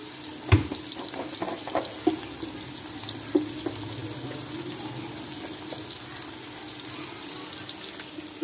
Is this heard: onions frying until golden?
yes